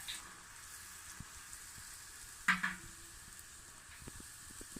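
Dok jok flower cookie mold sizzling steadily in hot frying oil, a soft, continuous hiss with a brief louder crackle midway, fairly faint and with no voices.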